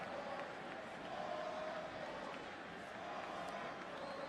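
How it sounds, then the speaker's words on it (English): Stadium crowd at the 2005 Miami at Virginia Tech college football game, a broad, distant roar of many voices that holds steady at a moderate level throughout. "Crowd noise and speed cause havoc on offensive linemen now."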